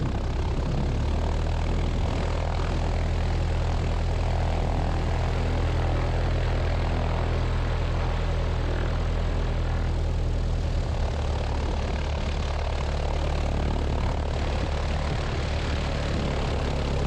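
A Zenith STOL CH 750 Super Duty light airplane taxis with its engine and propeller droning loud and close, a steady low throbbing hum that lasts throughout and eases slightly near the end.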